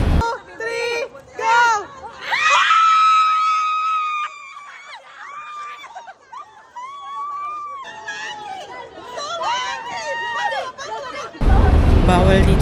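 Excited high-pitched screaming and shrieking from a group of fans at a concert in Hong Kong, rising and falling in bursts, with crowd chatter mixed in and a loud burst at the end.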